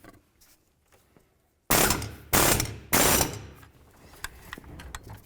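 36mm fan clutch tool turning the fan clutch on a 2006–10 Ford Explorer: three loud, sharp bursts of ratcheting metal in quick succession, followed by faint clicks and rattles.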